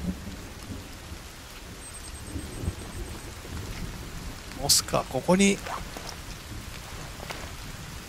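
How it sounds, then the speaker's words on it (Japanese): Rain and thunder in the survival video game The Forest, a steady wash of rainfall with a rumbling thunder burst midway, under someone talking. "雨降ってきたな。"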